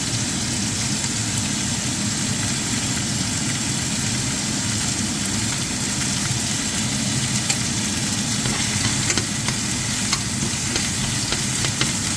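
Minced garlic and onion fry in a pan, giving a steady, dense sizzle with a low rumble beneath it and faint clicks, close and continuous with no talk.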